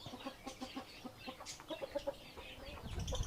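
Fighting cocks at a quail farm cluck in a steady series of short, close calls, with a brief louder squawk midway and some rustling near the end; no one speaks.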